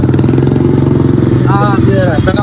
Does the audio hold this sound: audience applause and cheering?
no